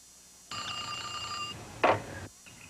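A telephone in a TV advert rings in one electronic trill that lasts about a second, followed by a brief clatter as the line picks up, with no voices over it.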